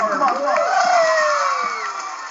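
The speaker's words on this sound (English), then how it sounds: "we should have a massive round of applause" A crowd of young voices cheers and shouts together in a loud, excited burst of applause that lasts a couple of seconds.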